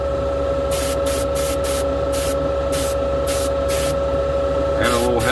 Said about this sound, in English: The best thing about an airbrush, it'll get in all those little nooks and crannies.